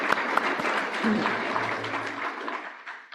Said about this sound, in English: Round of applause for these people.